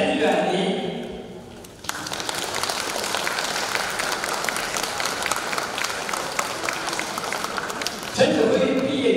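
Audience applause welcoming a choir conductor at a concert, a steady dense wash of clapping lasting several seconds, with a voice speaking just before and after it.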